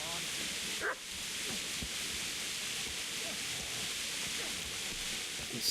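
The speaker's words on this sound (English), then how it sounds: "Hearing this dog barking." A dog barking in the medieval game Kingdom Come: Deliverance, a few sparse barks at a distance under a constant ambient hum, with someone talking over it.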